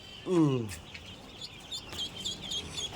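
Beijing ducklings call during a brooding session. A louder descending call comes near the start, then faint, high, short peeps repeat in the background.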